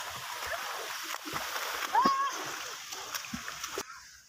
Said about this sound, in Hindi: और ये हैं सारे शरारती बच्चे जो नहर में कूद रहे हैं